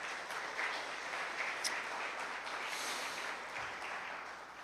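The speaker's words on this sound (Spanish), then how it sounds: "Dele un aplauso al Señor." A church congregation applauds during a Spanish-language service, a steady, soft wash of many hands clapping at a moderate distance for several seconds, with a few sharper claps standing out.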